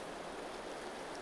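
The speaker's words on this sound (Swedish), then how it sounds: "Det livgivande vattnet sprutar fram ur klippan" Spring water gushes out of a rock into a stream, a steady, dense rushing wash with no break or voices over it.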